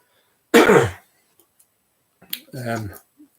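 A single harsh throat clearing, then a short pause and a second rougher clearing with a hum, close and quiet otherwise.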